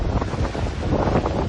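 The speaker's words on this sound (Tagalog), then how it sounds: "Malakas na hangin at hampas ng alon din ang sumalubong sa mga residente" Strong wind from Typhoon Opong in Masbate, Philippines, buffets the microphone in a constant roar, with the churning wash of surf and waves underneath, loud and close.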